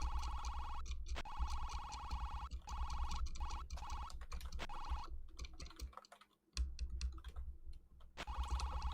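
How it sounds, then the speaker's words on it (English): Rapid bursts of typing on a computer keyboard, dense clicking in steady runs broken by short pauses, close and fairly quiet, with no voices. "I hear you rapidly typing."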